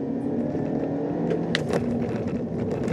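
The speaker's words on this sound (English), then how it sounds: "I'm going to give it a little throttle mash here" A 2019 Kia Forte with a CVT accelerating under a throttle mash, heard from inside as a steady, droning engine hum with road noise and a few brief rattling knocks over rough pavement.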